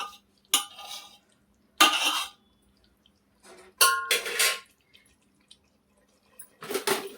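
Spoon or ladle stirring rice cooking in a pot, a handful of separate scraping, clinking bursts with quiet gaps between them, close and fairly loud.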